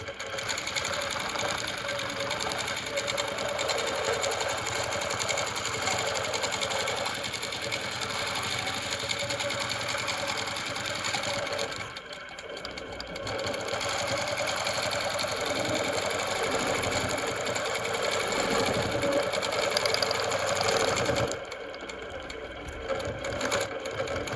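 A sewing machine runs steadily while free motion quilting a hand-embroidered, hand-pieced quilt, giving a continuous close, rapid mechanical hum that stops briefly twice.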